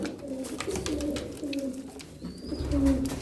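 Austrian King pigeon cooing softly in a loft, a few low, drawn-out coos repeating over steady background noise, with one faint higher chirp partway through.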